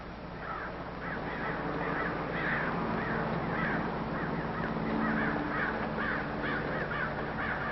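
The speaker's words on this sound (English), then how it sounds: "Crows. We have a lot of them out here." Many crows caw repeatedly in a steady chorus, some nearer and some farther, over constant outdoor background noise.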